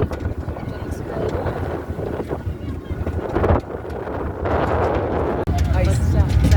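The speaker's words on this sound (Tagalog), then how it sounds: "Talaga yung hangin." Steady, loud cold wind buffeting the microphone in a snowy place, roaring on and on, with people talking underneath.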